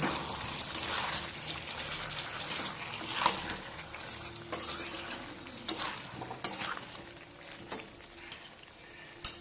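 Pumpkin curry sautés in a pan with a soft, continuous sizzle, punctuated by repeated scraping and clinking of a spatula stirring, with a sharper knock at the end.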